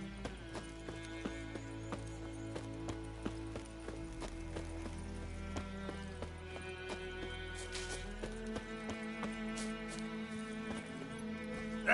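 Roach the horse's hoofbeats from The Witcher 3 video game, a steady clip-clop of hooves trotting along over a continuous bed of game music and ambience, moderately loud throughout.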